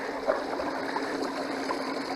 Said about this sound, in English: So when I first start it, I want to watch how the water flows.